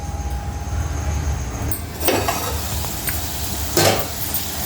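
Potato and carrot curry frying in a pan, a soft continuous sizzle with a couple of brief scraping stirs of a spoon through the pieces, close and steady.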